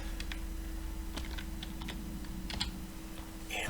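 Fingers tap out a search on a computer keyboard, a quick run of light clicking keystrokes with uneven rhythm, close and clear over a steady low hum.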